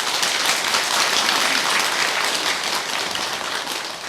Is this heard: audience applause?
yes